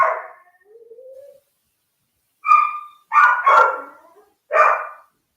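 A dog barks from a short distance away indoors, a few sharp barks and a yip in a loose cluster, with quiet gaps between them and no talking.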